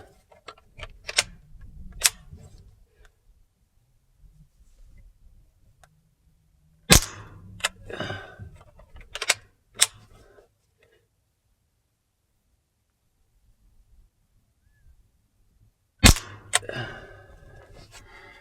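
Umarex Ruger 10/22 CO2 pellet rifle fired with open sights: a few sharp, loud cracks spaced several seconds apart, each followed by brief rattling and clicking, with quiet gaps between shots.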